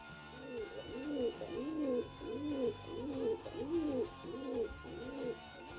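Racing pigeons coo repeatedly in a steady, rhythmic series of soft, rolling calls, close and fairly loud, with a low background rumble and no talking.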